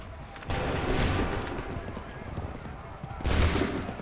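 In Assassin's Creed III, a musket volley cracks out in two broad bursts of gunfire, loud and sharp against steady battlefield noise.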